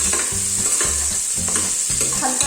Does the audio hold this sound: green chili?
yes